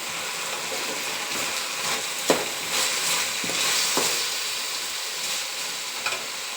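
Spices for bisi bele bath being stirred in a hot pan, a continuous sizzle with scraping spoon strokes and a few sharper clinks against the pan, close and without talk.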